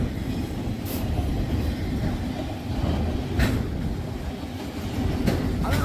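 CSX freight train hauling tank cars rolls past on a windy day, a steady loud rumble of wheels and rail with faint clickety-clack and occasional brief squeals throughout.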